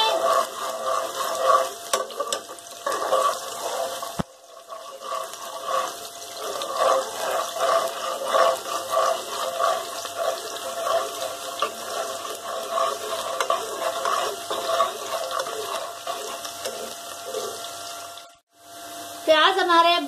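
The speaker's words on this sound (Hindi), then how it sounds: "मैंने इसमें घी लिया था, आप इसमें ऑयल भी ले सकते हैं। प्याज को हमने लाइट ब्राउन करना है।" Sliced onions fry in ghee until light brown, a steady, fairly loud sizzle with a scraping stir now and then, running almost without a break for the whole stretch.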